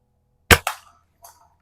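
A Haenel 310 4.4 mm BB gun fires at cans outdoors: a sharp, close crack followed by a quick second snap, then a faint metallic tick of the target a moment later, with no talking.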